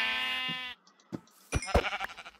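A long, nasal sheep bleat from Minecraft sounds up close, followed by short game clicks and footsteps and a choppy run of thuds and chirps.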